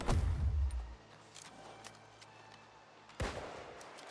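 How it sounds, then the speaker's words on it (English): Video game gunfire booms in two separate heavy shots with a quiet stretch between them, each trailing off in an echoing rumble. "This guy's shooting from so far away."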